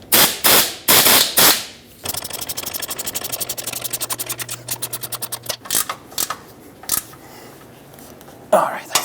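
A wrench snugs up the sway bar bushing bolts on a 1997-2006 Jeep Wrangler with a rapid, steady run of close ratcheting clicks, set between louder knocks and handling noises. A voice is heard briefly.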